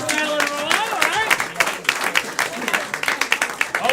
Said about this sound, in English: Clap for Madeline Roll, all right?